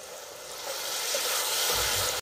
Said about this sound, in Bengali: আমি এর মধ্যে অল্প একটু জল দিয়ে দেবো